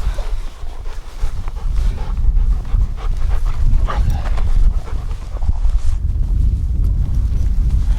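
A hunting dog pants hard and rhythmically at close range in the Norwegian mountains, its quick breaths over a heavy low rumble of wind or movement.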